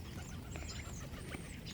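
Ducks at a shoreline being fed give a few faint quacks over steady low wind and background rumble.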